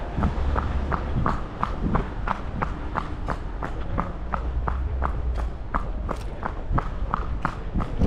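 Horse hooves clip-clopping along a road in a steady walking rhythm, each footfall a sharp, close knock repeated about twice a second over a low rumble of background noise.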